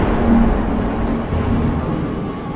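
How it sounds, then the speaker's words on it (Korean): Heavy rain pours in a steady wash with low thunder rumbling underneath, a continuous, loud storm bed with no voices. "세자가 그토록 두려워하던 천둥번개가 치기 시작했다"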